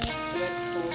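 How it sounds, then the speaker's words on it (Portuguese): Garlic cloves fry in rendered bacon fat in a pan for a Brazilian caldo de kenga, giving a steady, close sizzle that runs through the whole second at an even level. "Agora que eu já liberei a gordurinha do bacon, eu vou estar colocando dois dentinhos de alho. Dá uma leve douradinha nele."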